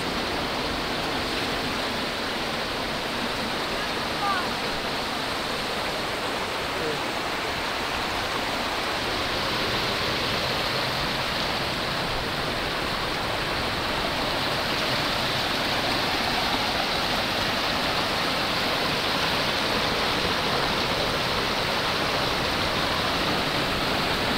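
Strong sea waves wash onto a beach in a steady, loud, unbroken roar of surf heard close up, with no voices over it.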